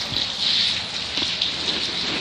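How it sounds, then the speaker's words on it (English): Steady rain falls in a dense, even hiss of drops on surfaces, close and continuous with no voices. "See, it's raining, because look at..."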